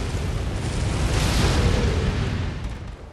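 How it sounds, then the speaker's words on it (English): A deep, rumbling explosion in the video game Bloodborne swells to a roaring peak midway, then slowly fades, with no talk over it. "Watch out for the explosions."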